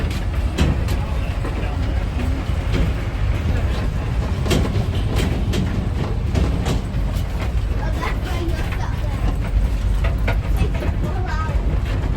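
Steady rumble and rattle of a tourist train in motion, heard from on board, with rhythmic clatter and people talking in the background.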